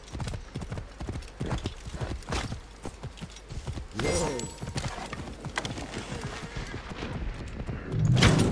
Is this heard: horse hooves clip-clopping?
yes